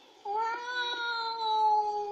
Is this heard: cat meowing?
yes